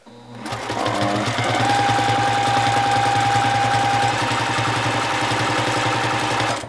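A sewing machine runs continuously while free-motion quilting an organic line across a quilt block, a loud, close, steady motor hum with fast even needle pulsing, starting abruptly and stopping at the end.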